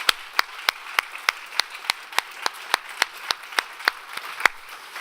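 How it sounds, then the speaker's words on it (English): A crowd at a React London tech meetup gives a round of applause, with a steady run of sharp claps standing out over the dense patter of many hands clapping together. "all of our talkers deserve a massive round of applause"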